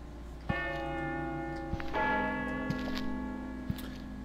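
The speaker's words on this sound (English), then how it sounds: "Nice chimes. A little out of tune," Slightly out-of-tune clock chimes ring in the video game Inunaki Tunnel, two resonant bell strikes about a second and a half apart with long sustained decay and faint ticking beneath, no talk.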